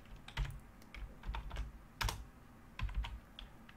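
Fingers type a Linux bash shell command on a computer keyboard, a close, fairly quiet run of irregular key clicks in small bursts with pauses, no voices over it.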